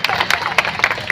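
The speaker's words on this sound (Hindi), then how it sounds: "जोरदार तालियां" Loud, dense applause from an audience at a TB awareness event in India, with sharp clapping bursts in a short spell.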